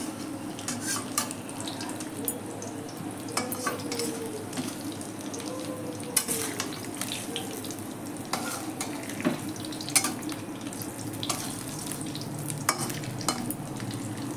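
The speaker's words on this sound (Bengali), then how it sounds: "এভাবে করে উল্টিয়ে দিলাম, একটু লাল লাল করে ভাজবো।" Stuffed teasel gourd frying in a pan, a steady close sizzle broken by regular scraping and clinking as the pieces are stirred and turned, with no talk over it.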